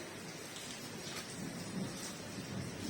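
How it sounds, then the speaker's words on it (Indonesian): Steady rain falls through a thunderstorm on a dim late afternoon, a dense even hiss with low rumbling underneath that holds for about three seconds, with no voices. "Kondisi cuaca hujan jadi agak redup."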